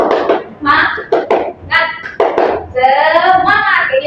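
A group claps in a quick rhythmic pattern for a 'tepuk semangat' cheer in an Indonesian classroom, sharp claps mixed with chanting voices.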